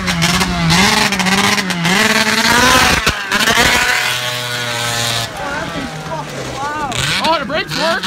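An Arctic Cat ZR440 snowmobile, just rebuilt, running on its first test drive: a loud, rough two-stroke engine revving and wavering up and down close by, with people shouting over it.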